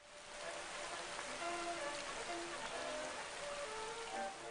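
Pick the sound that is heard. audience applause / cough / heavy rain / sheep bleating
heavy rain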